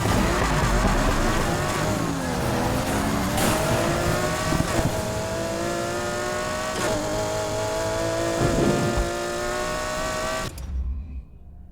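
Race car engines in Need for Speed Heat rev and howl loudly, rising and dropping in pitch through gear shifts with occasional tire squeal, continuous until the sound cuts off abruptly near the end.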